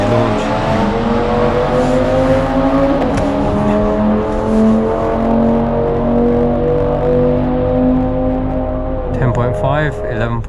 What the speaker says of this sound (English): Look at those RS3s launch.